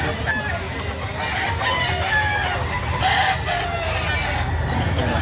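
Roosters crow and hens cluck at a Saturday chicken market in Lipa City, Batangas, loud and close, with overlapping calls and crowd noise throughout.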